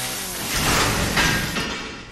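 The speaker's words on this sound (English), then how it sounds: "the only thing you can do is use your chainsaw on this bar" A chainsaw in Resident Evil 7 saws through a metal bar, a loud, dense, continuous roaring grind whose intensity swells and eases in waves across the whole span.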